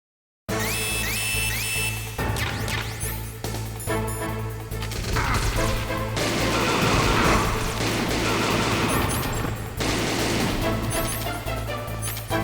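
Sustained gunfire in Metal Gear Solid, with dense shots and crashes running continuously and loudly over steady game sound for the full stretch.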